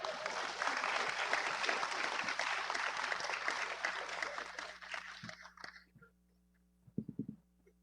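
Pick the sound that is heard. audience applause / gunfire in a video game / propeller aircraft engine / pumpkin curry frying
audience applause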